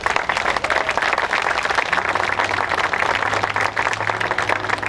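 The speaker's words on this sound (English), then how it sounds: "Round of applause for the Lembke." An audience at a VFW hall dedication ceremony claps in a dense, continuous round of applause, close and fairly loud, with a low hum underneath.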